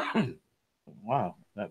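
A single rough cough or throat clear from one person during a tabletop game session, followed by a person talking.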